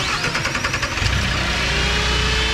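A Mayco LS450 concrete pump's engine catches and runs, a loud steady close mechanical drone after a brief rattling start, no voices.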